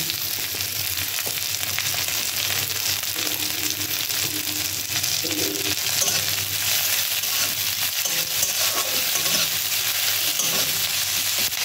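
Taro and Malabar spinach cook with fried shrimp in a pan, giving a loud, continuous sizzle. Scraping and stirring strokes run steadily through it, with occasional soft knocks.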